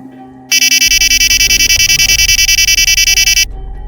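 A loud, harsh electronic timer alarm buzzes in rapid pulses for about three seconds, then cuts off abruptly over a low background rumble.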